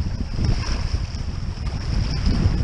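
Strong wind gusting at a mountain lake, rumbling buffeting against the microphone with a steady hiss, loud and close throughout, no voices.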